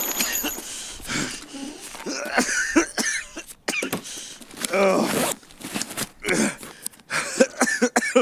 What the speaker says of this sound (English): Somebody's been coughing up a storm the entire time.